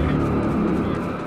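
A Bugatti car driving in a VR video game gives a steady, dense engine roar throughout, loud and continuous, with voices faintly mixed underneath.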